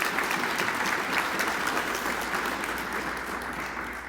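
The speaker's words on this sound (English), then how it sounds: "How about a round of applause again for them?" Audience applause at a Commerce City economic development luncheon event, a steady dense clapping from a room of people, fairly distant and gradually fading over a few seconds.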